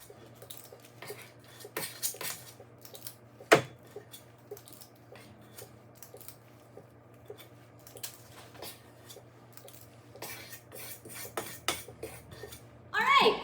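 Peanut butter cookie dough scooped onto a tray: sparse, quiet clicks, taps and soft scrapes of a scoop against metal over a low background hum, with a louder rattle at the end.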